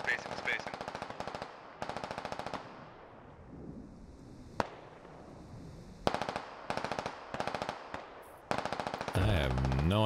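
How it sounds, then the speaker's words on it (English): Squad gunfire in the SquadOps video game: bursts of rapid automatic fire alternate with a single sharp shot and short gaps, moderately loud over a low background. A brief voice is heard at the end. "I have no idea what they're shooting at, but they're shooting."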